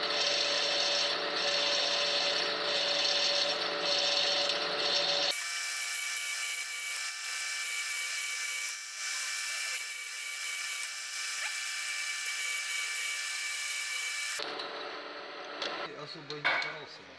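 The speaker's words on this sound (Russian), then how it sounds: "Сверлим остатки и превращаем их в трубку." A high-pitched drill grinds steadily into a Ford 1.6 cylinder block, drilling out broken bolt remains: a continuous whining rasp that shifts in tone partway through and sputters near the end.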